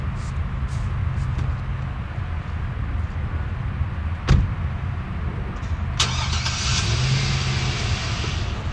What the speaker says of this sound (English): we're going to thoroughly compact this material using the vehicle